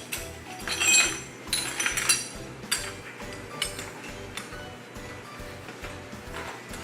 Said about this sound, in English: In case of any broken glass on your lab station, the proper way to clean it up is to clean it up with your broom